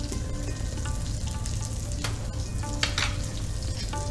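Steady sizzling of oil in a frying pan with green chilli as poppy seeds are added, with a few stirring scrapes and taps over the continuous hiss.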